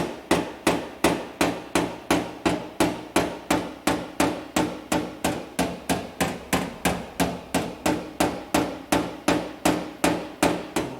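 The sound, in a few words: small rubber mallet tapping out a dent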